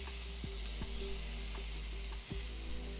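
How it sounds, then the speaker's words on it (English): Freshly flipped pork cutlets sizzle in a pan for ramen, giving a constant, loud hissing fry broken by a few sharp taps and clicks. "we're going to go ahead and flip those cutlets"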